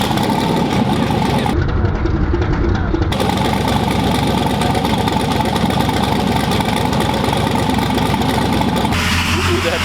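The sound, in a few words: Chevrolet C10 truck engine running in background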